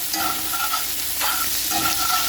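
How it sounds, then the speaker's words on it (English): Spatula scraping and stirring chopped parsley around a hot frying pan after searing a scored sirloin steak, a steady sizzle under repeated rhythmic scrapes, close up with no talking. "Scrape it off, clean the pan a little bit, get that flavor, and just kind of soften up that parsley just a bit"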